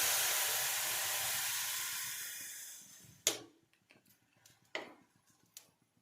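Tea boils in a pan on a stove, a loud steady hiss that fades out over about three seconds, followed by a few sharp clicks and faint ticking in near silence.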